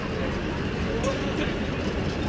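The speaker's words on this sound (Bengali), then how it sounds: "দেখতে পাচ্ছ আমাদের মেট্রো ছেড়ে দিয়েছে" A Kolkata Metro train pulls out of Esplanade station with a loud, steady low rumble and broadband roar. Faint higher squeals rise and fade as it moves away.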